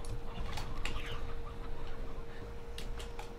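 Scattered hen clucks and chicken sounds from the video game Slime Rancher, mixed with game effects, moderately loud and continuous.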